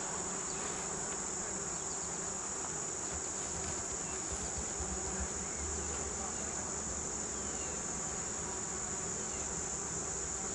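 Bees at the front of a hive, recorded up close: a dense, continuous, even buzzing drone that holds steady throughout with no pauses and no speech.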